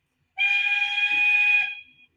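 An Accurascale J69 model locomotive sounds its loud whistle, a single steady tone held for about a second and a half before cutting off cleanly, with no other noise around it.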